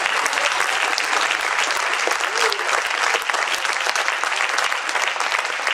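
A church congregation applauding, a dense and sustained roar of many clapping hands filling the room at steady loudness for several seconds, with faint voices mixed in.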